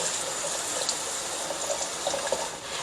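Water runs steadily through a chicken sausage casing being rinsed out, a continuous close splashing flow with small gurgles, no talking.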